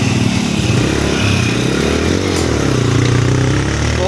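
Motorcycle engine laboring up a steep, dangerous hill road with sharp turns, a loud continuous droning roar that rises and falls in pitch as the rider climbs, close and alone.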